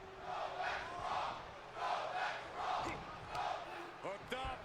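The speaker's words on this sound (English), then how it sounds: "I don't know what the crowd was saying." In the WWE 2K22 video game arena in Winter Park, Florida, a crowd chants in rhythmic swelling waves, about five loud surges, with a few brief sharp sounds near the end.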